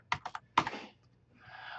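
A few quick keystrokes on a computer keyboard, a short burst of clicks, a pause, then a firmer cluster, followed by a softer brushing rustle, close and quiet with no voices.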